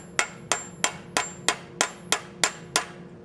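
A blacksmith's cross peen hammer strikes hot steel while forging an acanthus leaf, ten sharp ringing blows falling in a steady, even rhythm, close and alone.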